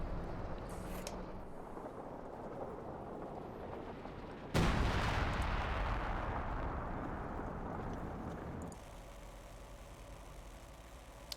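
Artillery fire in Company of Heroes 2: a continuous loud rumble of shelling, then a heavy blast at about four and a half seconds that swells and slowly fades into a steady, quieter roar.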